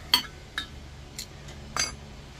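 Metal parts of a Canadian 505 stove burner being fitted back together: four light, separate clinks and taps, quiet and close, with faint background hum between them.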